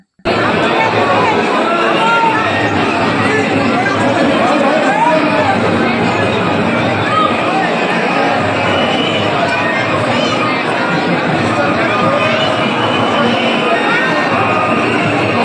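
A dense crowd fills Prem Mandir temple in Vrindavan during Holi, a loud and constant babble of many voices with shuffling feet that never lets up.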